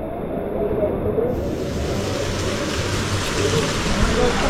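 Steady heavy rain pours at the Mahabaleshwar temple in Maharashtra during the monsoon, a dense continuous hiss filling the whole clip with no clear voices.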